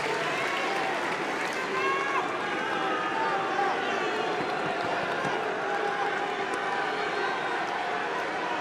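A tennis crowd at Roland-Garros during the 2023 men's final between Djokovic and Ruud, a steady dense roar of many voices cheering and murmuring throughout, without clear peaks.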